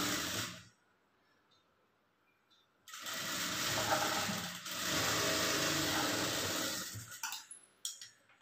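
A sewing machine stitching a princess-cut blouse with its lining runs in two bursts, a brief whir then a longer steady run of about four seconds, with a quiet pause between and a few clicks at the end.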